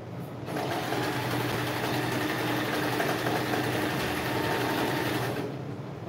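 Sewing machine runs steadily, stitching a straight seam on knit fabric for a sleeved poncho, a close, continuous whirring hum that starts and stops cleanly.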